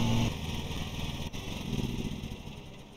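Small lawn mower engine in the Lawn Mowing Simulator video game, running steadily at a constant drone with a brief dip midway, loud and continuous with no talking.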